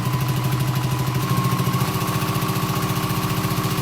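A sewing machine hums close and loud through a steady run, stitching a half-inch seam on a vinyl tote bag, with a brief change in pitch partway through.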